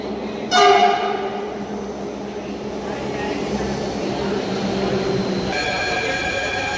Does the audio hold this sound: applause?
no